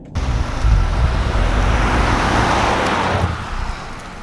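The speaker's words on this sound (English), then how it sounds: "Let's go ahead and get on the road here." A 2016 Cadillac Escalade SUV pulls onto the road, with a steady engine and tire-road rumble that swells in the first moments and holds through the clip, with no voices.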